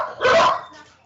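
A single close dog bark or yelp, loud and brief, then fading into quiet.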